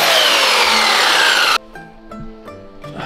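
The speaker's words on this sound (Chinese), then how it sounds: "然后用切割机把多余的部分给切掉" A cutting machine whines loudly and steadily through a board to trim off the excess during home woodworking, then cuts out abruptly, leaving faint clinks and knocks.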